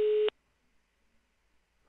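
A single short electronic telephone tone sounds loudly and cleanly in a Minecraft video, then cuts off abruptly, leaving near silence.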